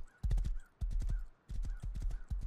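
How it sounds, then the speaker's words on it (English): Horse hooves clip-clop in the game Rust, heard as loud, close bursts of several quick hoofbeats in a repeating galloping rhythm with short gaps between them. "This horse be slow."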